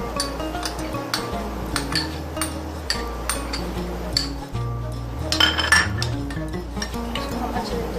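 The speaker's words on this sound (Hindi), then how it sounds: "इसको हम अच्छे से मिक्स करेंगे।" Garlic butter ingredients with green onion being mixed in a bowl, giving repeated clinks and scrapes of a utensil against the dish, steady and close throughout with no speech.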